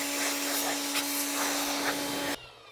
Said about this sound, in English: I'm gonna bring over here and pressure wash them